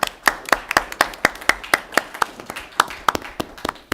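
Scattered clapping at a city commission meeting, a modest group of hands beating in steady, fairly close, distinct claps with no talk over it.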